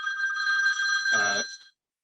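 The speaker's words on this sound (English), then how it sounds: "I have a phone ringing" A telephone rings once during an online town hall session, a bright electronic warble that lasts under two seconds and then cuts to silence.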